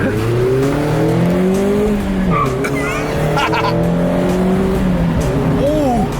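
A small, light 150-horsepower car accelerates hard, its engine note climbing and falling through the revs, with brief tire squeals cutting in over the loud, close motor.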